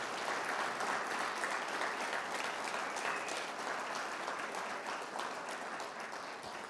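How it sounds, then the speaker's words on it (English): Sustained, dense applause from an audience at a high school graduation stoling ceremony fills the room at steady loudness, with no gaps, for nearly seven seconds. "Let's give them one more round of applause"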